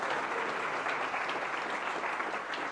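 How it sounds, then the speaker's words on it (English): Audience applause for the filmmakers at the Affinity Live keynote, a steady, dense wash of many hands clapping at moderate distance, holding evenly throughout without a break. "So give them a round of applause."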